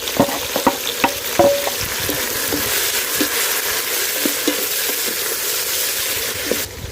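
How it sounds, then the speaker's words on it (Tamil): Chopped tomatoes and onions fry in hot oil for a mushroom biryani, a loud steady sizzle with scattered scraping and clinking of a spoon stirring through the pan, no talking. "இப்போ நம்ம தக்காளி சேர்த்துக்கலாம்."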